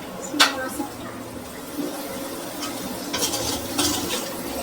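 Curry leaves dropped into hot oil while frying chicken for a street-style chicken fry give a low, steady sizzle with occasional stirring scrapes and soft clinks of utensils, a voice talking faintly over it.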